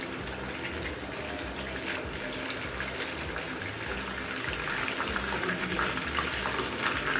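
Chicken koftas fry in oil in a pan, giving a steady, dense sizzle that holds throughout and swells slightly toward the end, with no talking.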